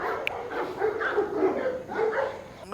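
Dog barking and yipping outdoors during a group pack walk, a few short, fairly close barks over background noise.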